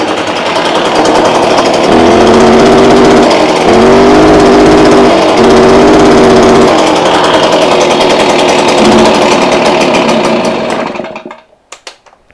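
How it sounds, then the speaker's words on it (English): A Stihl two-stroke engine runs loud and rough, bogging and sputtering instead of revving up, its uneven idle pulsing unsteadily before cutting out and falling silent at the end. "Engine doesn't run right. Idle's rough. Doesn't rev up. That's bogging."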